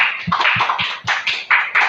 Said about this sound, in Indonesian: Oke, tepuk tangan sekali lagi untuk tim Stepa.